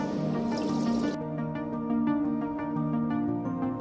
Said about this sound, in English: Start the bubbles.